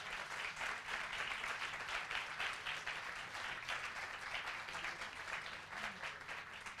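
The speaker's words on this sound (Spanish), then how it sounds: "Un aplauso, por favor." A live audience at a cultural talk program applauding, dense continuous clapping from many hands at a moderate distance, sustained throughout without a break.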